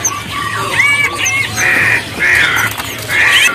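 White-browed mynas (kerak pasi) at an Indonesian bird market give loud, close squawking calls in repeated short bursts over a low background hum.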